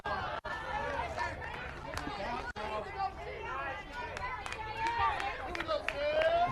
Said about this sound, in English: Some complaints from the crowd here about that pitch